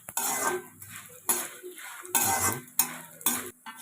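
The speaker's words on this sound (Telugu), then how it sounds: "ఇప్పుడు ఇందులోనే కొంచెం అంత ఇంగు వేసుకొని మొత్తం అంతా ఒకసారి బాగా ఫ్రై చేసుకోవాలి." A utensil stirs and fries ingredients with asafoetida in a pan for gongura chutney: clattering scrapes against metal come in repeated close strokes over a faint sizzle, with no one speaking.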